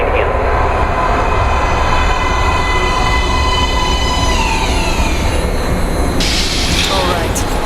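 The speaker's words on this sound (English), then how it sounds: "Train coming in." Metro train pulling into an underground platform in the video game Metro Last Light, a loud continuous rumble with squealing wheels and rattling carriages, filling the space close by.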